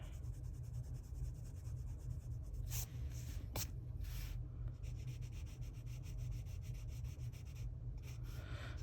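A colored pencil is drawn across paper while coloring a miniatures page, a faint, steady scratchy rubbing with a few brief strokes and taps over low background hum, no talk.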